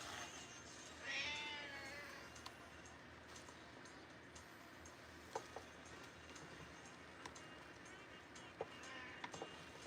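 A house cat gives one clear meow near the start, then stays quiet over faint room noise, light clicks and soft taps.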